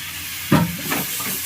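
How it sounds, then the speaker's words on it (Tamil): Tomatoes sautéing with softened onions in a pan for fish curry, a sudden sizzling hiss as they go in, then a quieter fizz with another short stir. "அடுத்து தக்காளியை போட்டு நம்ம நல்லா வதக்கிக்கலாம்."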